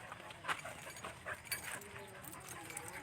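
A pet dog at home whimpering and yipping in short, soft bursts, with people talking over it and light household noise around.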